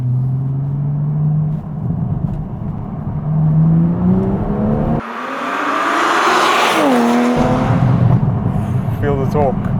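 A tuned Toyota Supra MK5 with its B58 engine, still on the stock downpipe, accelerates: a steady engine drone climbs in pitch, breaks for a gear change, then pulls again, loud and close throughout.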